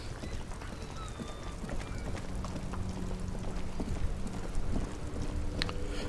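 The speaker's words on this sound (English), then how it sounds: "It's so rainy" Steady rain falls across a dockside street in the video game Disco Elysium, a dense continuous hiss with scattered splashy patters and faint background noises, no talk.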